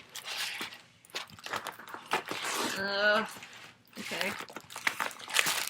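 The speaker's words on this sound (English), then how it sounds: "So we'll unwrap it." A Mary's Diamond diamond painting kit package being unwrapped: crinkly plastic rustling and crumpling up close, in irregular bursts, with someone speaking briefly between them.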